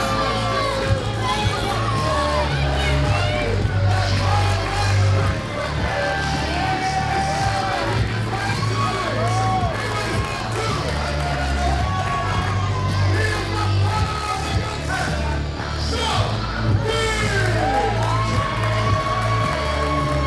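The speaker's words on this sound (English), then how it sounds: "Brian Keith gets a standing ovation from this crowd." A wrestling crowd on its feet for a standing ovation: sustained loud cheering, whooping and shouting that swells in waves for the full length, with scattered chanting voices.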